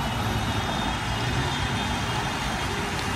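Road traffic in Abu Dhabi: a continuous, fairly loud wash of car and truck engines and tyre noise, steady throughout with no talking.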